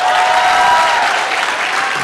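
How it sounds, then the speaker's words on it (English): Audience applause at Hillsboro's State of the City event for the Hillsboro High School drumline, a dense, steady wash of many hands clapping close and loud throughout, easing slightly toward the end. "Can we please give a big round of applause for the Hillsboro High School drumline one more time?"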